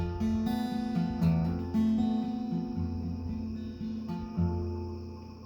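Acoustic guitar fingerpicking from a song, with a steady rolling thumb-and-finger pattern and a hammered-on note from the pointer finger, played close and clear with no voice.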